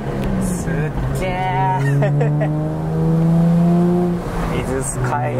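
A car drives along the Izu Skyline road in Shizuoka. Its low engine and road rumble runs steadily beneath nearly continuous talking.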